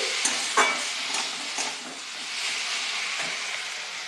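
Hilsa fish head stirred with taro flower and sugar in a pan, a bright hissing sizzle with soft scraping touches early on, steady and close without any voices.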